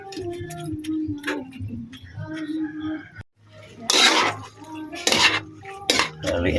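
Utensil stirring adobong kangkong in a pan, giving clinks and scrapes of metal against cookware, sharp bursts clustered in the second half with a background hum, brief voices.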